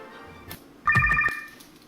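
A Motorola flip phone rings with a short, bright electronic ringtone burst of rapid repeated tones, fairly close and loud, preceded by faint rustling and followed by quiet room sound.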